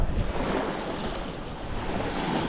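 Constant wind buffets the microphone outdoors at Cultus Lake, British Columbia, a broad steady rush with low rumbling gusts and no voices.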